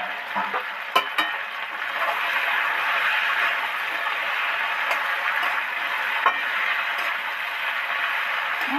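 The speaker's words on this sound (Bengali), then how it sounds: "এবার তেল টুকবুক টুকবুক করে ফুটছে।" Oil bubbling and sizzling steadily in a pan as taro, potato and tomato deep-fry, a dense close hiss with a few faint clicks and no talking.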